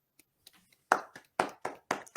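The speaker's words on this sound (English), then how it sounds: "And round of applause for Anthony Morabito." A short round of clapping from a small audience at a wrestling show: a few faint taps, then a handful of sharp, distinct claps in an uneven rhythm, close and clear with no talk over them.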